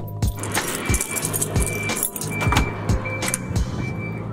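A bunch of keys jangles close by in a garage, with bright metallic clinks coming in quick rhythmic shakes over a low background hum.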